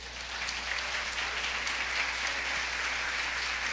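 A church congregation applauds in a dense, continuous wash of clapping, steady and full throughout with no talk on top, over a low steady hum.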